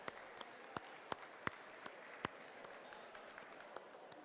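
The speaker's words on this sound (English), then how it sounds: "Once again, a big round of applause to Alliance number 2 for coming back and sticking it out all the way to the finals." Sparse, scattered claps from a small audience at a FIRST Tech Challenge robotics qualifier in Washington, DC, honoring a finalist alliance; faint, distant individual claps with gaps between them and no voices.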